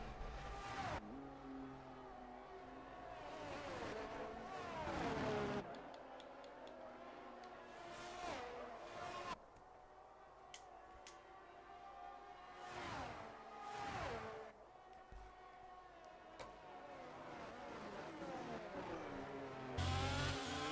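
Ferrari Formula 1 cars in the F1 22 game at the Austria circuit scream through repeated high-revving accelerations, with rising pitch sweeps, gear changes and cars whooshing past at moderate volume.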